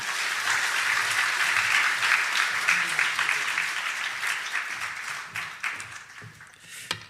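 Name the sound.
audience applause welcoming the speaker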